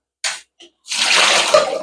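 Cold water runs through cooked rice in a sieve: a short splash, then a brief drip, then a steady close rushing stream of water that lasts to the end.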